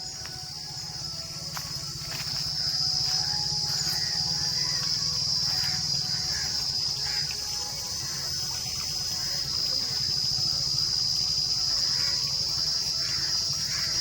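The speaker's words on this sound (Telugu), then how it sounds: "ఈ బోరు కూడా ప్రభుత్వం వారు వేసిన బోరే ఇది దీంట్లోంచి కూడా వేడి నీళ్ళే వస్తూ ఉన్నాయి" Hot water gushes steadily from a government-drilled borewell in Pagaderu, a continuous close rushing flow with a faint high insect-like whine above it.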